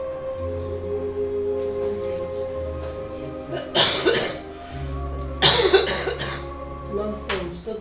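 A person coughing indoors, a few sharp close coughs in two or three separate bursts a second or so apart, standing out over a steady low background hum.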